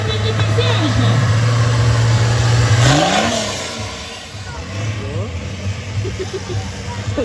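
Monster truck engines revving at a festival show, a loud low roar that climbs and surges before easing off, with an announcer talking over the noise and the engine rumbling again near the end.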